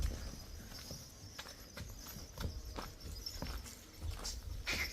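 A well-bred 28-month-old horse walks on a farm, hooves clip-clopping in a steady series of distinct, fairly faint knocks against quiet outdoor background.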